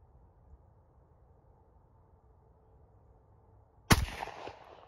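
A single sharp rifle shot from a .300 Blackout cracks out near the end, aimed at a pumpkin outdoors, after a stretch of quiet low background hum, with a short ringing tail.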